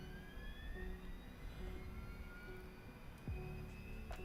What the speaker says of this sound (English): APU is starting.